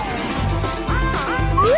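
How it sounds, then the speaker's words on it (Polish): A hammer smashes a Chupa Chups lollipop, with a couple of sharp, loud cracking blows over bright, tonal background music with sliding notes. "Weźmiemy młotek i rozbijemy go w drobny mak."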